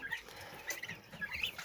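Turkeys on a poultry yard among young poults, giving faint, scattered bird calls and soft clucks at a moderate distance over light background noise.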